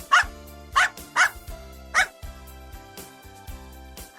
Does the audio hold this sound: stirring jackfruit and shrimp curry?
no